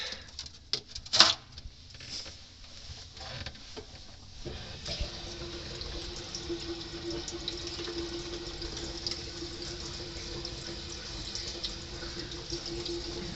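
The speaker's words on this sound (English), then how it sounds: "And then we'll turn the water on." Tap water runs into a kitchen sink under a newly repaired drain pipe, first in a few clattering splashes and then as a steady, moderate patter that goes on without stopping.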